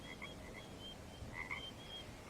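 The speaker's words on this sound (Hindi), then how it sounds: "बाहर से मेंढकों की आवाज आ रही है" Frogs croaking outside at night after rain, short chirping calls repeating in irregular bursts over a quiet hissing background, faint and somewhat distant, with no voices.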